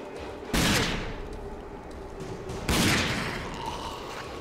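Two sharp gunshot blasts in the video game RAGE, about two seconds apart, each followed by a fading echo over a low background hum.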